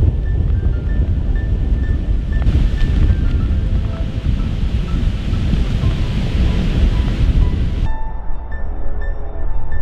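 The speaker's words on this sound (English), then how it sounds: "So even in difficult circumstances there with the wind, we're right at the top of the hill here" Strong wind roars and buffets at the top of a hill on a golf course, a loud continuous rumble with gusts throughout and a brief lull near the end.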